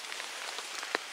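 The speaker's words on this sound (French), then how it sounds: "Sinon il pleut toujours." Light, steady rain pattering on a tarp strung over hammocks at a bushcraft bivouac, a soft continuous patter with one slightly louder drop near the end, no talking.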